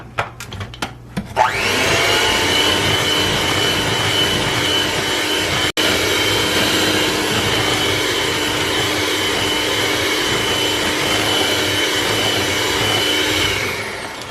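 Butter worked into dry vanilla cake ingredients by an electric mixer, a loud, even motor drone that starts after a few light knocks and runs almost unbroken, with one tiny drop partway through.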